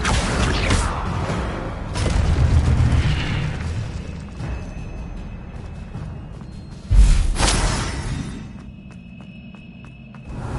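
Confringo blasting spell detonations in the Hogwarts Legacy video game, two heavy booming explosions with whooshing rumble and mechanical game effects between them, loud and close with no speech.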